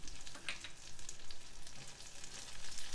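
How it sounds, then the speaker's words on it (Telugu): Small brinjal pieces and curry leaves fry in oil in a pan. A steady, hissy sizzle carries on throughout, fairly faint, with a few light crackles and stirring touches on top. "వంకాయలు ఇలా చిన్న చిన్న ముక్కలుగా కట్ చేసుకొని వేసుకోవాలి. ఇవి కూడా కొంచెం వేగనివ్వాలి."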